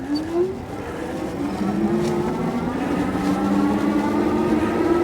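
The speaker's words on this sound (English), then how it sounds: "Has a nice gradual acceleration. The motor is pretty quiet." An electric bike motor accelerates under twist throttle, giving a smooth whine that rises steadily in pitch over a constant low road and wind rumble, fairly loud and close.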